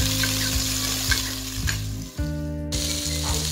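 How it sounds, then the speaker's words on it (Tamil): Steady loud sizzling of onions, curry leaves and drumsticks frying in hot oil, with a few stirring scrapes and an underlying low hum. "கருவேப்பிலை முருங்கைக்காய் வெங்காயம் மூணையும் இப்போ நல்லா நம்ம எண்ணெயில் வதக்கணும்"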